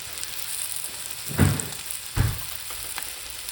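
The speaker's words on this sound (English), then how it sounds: "Burn up the peppers and burn up the onion" Peppers and onion fry in a pan with a steady close sizzle, broken by two louder bursts of hissing and clatter about a second apart.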